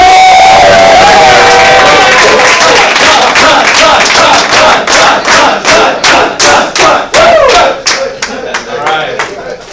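An audience greets a man named John coming onstage with loud, dense clapping and cheering that swells, then breaks into rhythmic pulsing claps near the end, with shouts mixed into the crowd noise.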